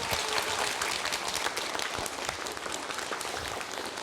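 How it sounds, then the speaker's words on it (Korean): Warm applause from a lecture audience at a Gwangju public academy event, greeting a tenor before his talk; steady, dense clapping from a full hall, even and continuous with no voices. "여러분의 박수로 지금부터 시작하도록 하겠습니다"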